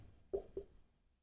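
Marker strokes on a board while notes are written during a lesson give two brief, soft squeaky scrapes in quick succession, close and quiet, with no talking.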